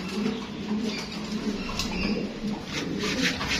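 Pigeons at a farm coo softly and continuously in a low, rolling murmur, with occasional rustles and faint higher chirps over a steady background.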